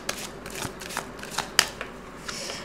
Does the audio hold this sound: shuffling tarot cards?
yes